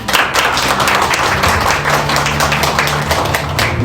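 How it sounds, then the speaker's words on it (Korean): An indoor audience at a forum on disability voting rights breaks into dense, steady clapping as a lawmaker is welcomed to the stage. The applause stays loud and sustained throughout, with no pause. "네, 나오실 때 큰 박수 부탁드리도록 하겠습니다."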